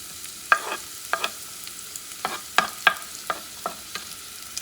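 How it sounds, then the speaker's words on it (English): Onions hit a hot soup pot for a chickpea and shrimp soup, giving a run of short crackling sizzles and stirring scrapes in irregular bursts over a quiet background. "I'm going to add the onions, not the garlic"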